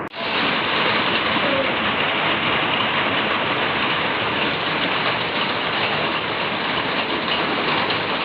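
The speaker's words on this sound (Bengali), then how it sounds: "এতদিন পর বৃষ্টি এসছে, বৃষ্টি পড়ার ভঙ্গি দেখো বন্ধুরা।" Rain falls in a dense, continuous wash of noise at a loud and steady level throughout, with no voices over it.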